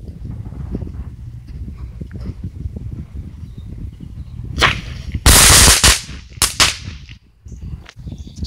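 A small 'bomb' firework goes off outdoors with one sharp, loud blast followed by a few crackling pops, after a stretch of quieter background noise.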